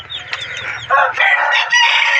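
Bantam chickens on a farm in the evening, a rooster crowing loudly nearby with clucking and other fowl calls mixed in, a short burst of overlapping calls.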